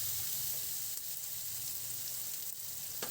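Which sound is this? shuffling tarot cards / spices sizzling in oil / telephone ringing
spices sizzling in oil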